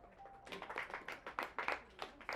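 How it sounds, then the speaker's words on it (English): Audience applause at a cinematography session, a burst of several hands clapping unevenly for about two seconds, moderately close in a room, with no talk over it. "Let's clap for him."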